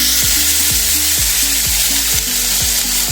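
Green chillies and garlic paste frying in hot oil with whole garam masala and onion, a steady loud sizzle, with regular rhythmic stirring strokes scraping through it.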